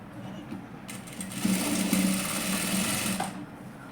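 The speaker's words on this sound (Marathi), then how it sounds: "तर हा सरळ बाजूने थोडीशी काटाने शिलाई मारून घ्यायची" A sewing machine stitches blouse fabric in a steady fast whirring run of about two seconds that starts and stops cleanly, close by.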